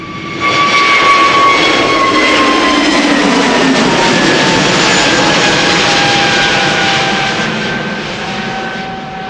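Airliner jet engines roar at Schiphol Airport, a loud, steady broadband rumble with whining tones that slowly glide downward, sustained for several seconds before easing off slightly at the end, with no voices.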